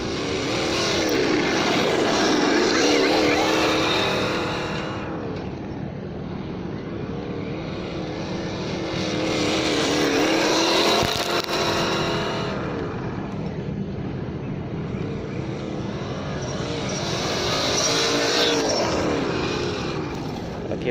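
Losi Baja Rey RC truck on a 2S battery running at full throttle, its electric motor whine rising and falling in three sweeping passes as it circles near and away, with no talk over it.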